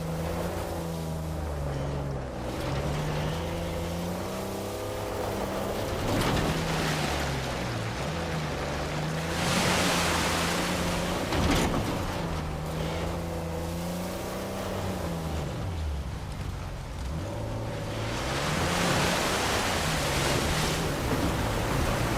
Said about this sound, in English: A secret cave behind the waterfall.